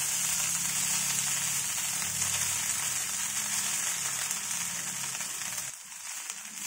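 Cooked rice hits hot oil with roasted cumin, giving a loud, continuous sizzle and crackle that drops away abruptly near the end.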